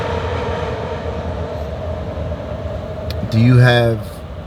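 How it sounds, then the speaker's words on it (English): A train passes near a street in Kensington with a steady, loud rumble throughout, and near the end a brief, strong tonal screech or horn rises above it and then fades. "Let me wait for this train to pass."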